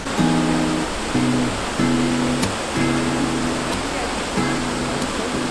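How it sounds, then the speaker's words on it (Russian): A waterfall beside rocky ground on a river cruise excursion gives off a steady, close rushing roar, overlaid by a recurring tonal hum that starts and stops in short bursts. "Я правильно понял, что вот это уже водопад и есть?"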